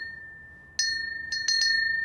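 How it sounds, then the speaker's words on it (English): A large bell, part of a set of festive Christmas bells, is struck several times, giving bright ringing dings in quick succession over a faint sustained tone, clear and close with no speech. "What about this really big bell?"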